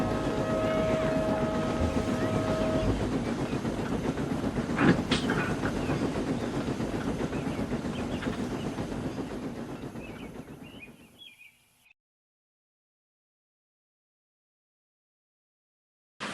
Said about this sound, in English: he puffed proudly through the junction on the last stage of his long journey